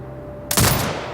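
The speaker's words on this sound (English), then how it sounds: "Exit binocular mode and command the turret to fire." A turret fires in the video game Sniper Ghost Warrior Contracts 2: a single sudden, loud, close blast halfway through, then a booming decay after a quiet hum.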